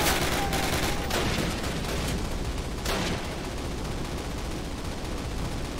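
Call of Duty gunfire crackles in a dense, continuous barrage of shots, loud and close, with a few sharper bursts standing out early on.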